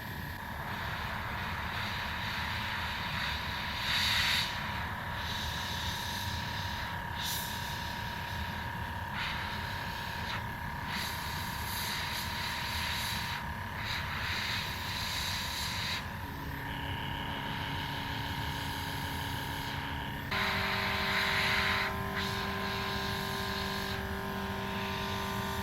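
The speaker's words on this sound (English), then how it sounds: "blow it with the compressor." A small air compressor blows air onto wet nail polish, giving a steady whirring drone whose pitch shifts a few times.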